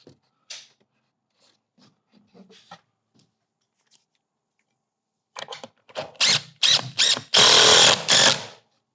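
A power drill drives a 3-inch screw into wood framing in a few short, loud bursts near the end, after a long quiet stretch with faint handling noises.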